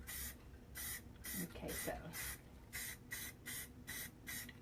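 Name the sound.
spray painting a miniature fireplace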